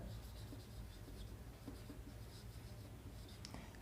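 Writing on a board during a classroom English grammar lesson makes a faint, continuous scratching, with small bursts of strokes and rubs close by and no voice over it.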